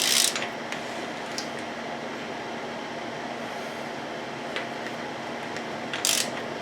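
Air hisses steadily out of the spark plug holes of a GM 2.4 Quad 4 engine in a 1999 Grand Am being turned over during a rebuild, a constant broadband rush with a few brief louder bursts and faint clicks.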